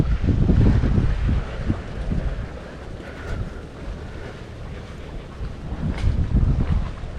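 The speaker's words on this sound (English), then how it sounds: "So we're literally touring it by boat." A boat motors through the lagoon waters around Taha'a in French Polynesia, its low engine rumble steady beneath heavy gusting wind buffeting the microphone throughout.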